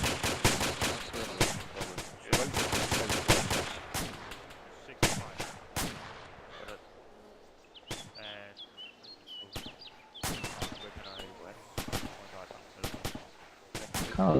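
Gunfire in a military video game, heard in a wooded area: repeated loud bursts and single cracks in irregular clusters, with quieter gaps and faint bird chirps in the background.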